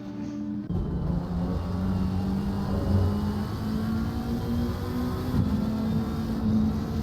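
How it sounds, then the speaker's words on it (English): A steady, loud McLaren GT3 race car engine roar drones throughout, with a sustained low tone and slight pitch shifts, no voices, during a British GT3 race at Brands Hatch. "I'm just listening to the roar of the McLaren engine"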